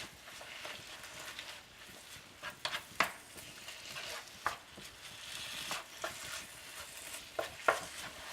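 Hamburger and onion cooking in a large skillet give a faint, soft sizzle, broken by sharp scrapes and taps of a utensil stirring against the pan, spaced irregularly throughout.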